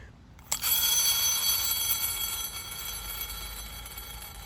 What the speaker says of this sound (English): the fork will start screaming because the molecules that make up the fork will be changing so rapidly that it'll just start screaming and vibrating